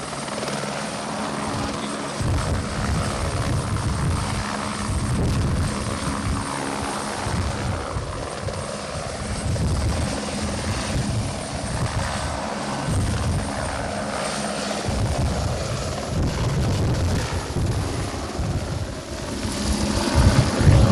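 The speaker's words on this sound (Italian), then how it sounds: "vi abbiamo fatto vedere in esclusiva le immagini del caricamento dell'acqua da parte di un mezzo, un elicottero del 112" A 112 emergency firefighting helicopter loading water, its loud steady rotor thump and engine roar continuous throughout, swelling slightly louder at the end.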